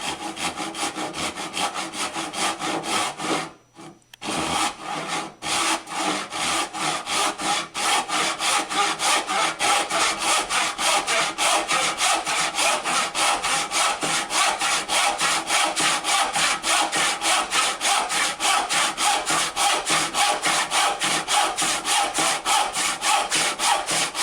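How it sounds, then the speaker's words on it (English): A hand saw cuts steadily through wood along marked lines to make wedges, with a close, rhythmic back-and-forth rasp. It runs continuously after one brief pause near the start and has no talking. "Then it's just a matter of sawing out to your lines."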